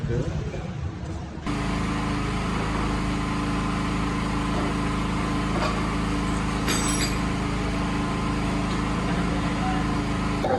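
A motorbike engine runs steadily right after servicing, starting about a second and a half in and then holding a constant, close, even drone with a faint light clink partway through.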